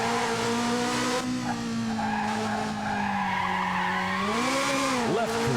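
Ferrari engines whine in a racing video game as a car spins out, with loud, wavering tire squeal and skidding over a steady engine drone, the pitch bending sharply toward the end.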